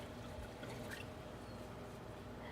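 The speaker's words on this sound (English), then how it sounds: "I'm just going to put just a little bit of wine in here." A small splash of wine pours into a pan on a Pit Boss pellet grill, giving a soft, continuous liquid trickle over steady outdoor background noise, with no voices.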